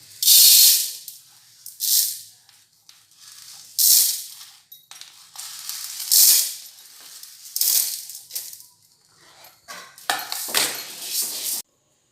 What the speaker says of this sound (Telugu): ఇప్పుడు వీటిని కూడా వేయించుకోవాలి లైట్గా. సిమ్లోనే పెట్టి వేయించుకోవాలన్నీ.